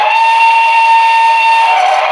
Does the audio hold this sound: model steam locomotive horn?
yes